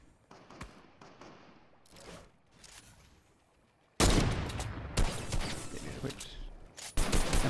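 Bursts of rapid gunfire in Fortnite crackle in clusters, quieter at first then loud and dense in the second half, with a voice talking over it.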